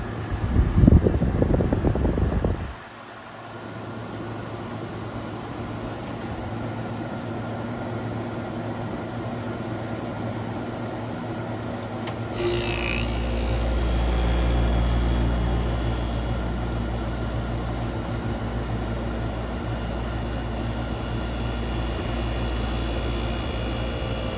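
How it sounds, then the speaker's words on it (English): The fan motor of an 8000 BTU portable air conditioner whirs into life and settles into a steady, broad mechanical hum that swells slightly louder partway through, after a brief clunk at the start. "There, the air fan just kicked on."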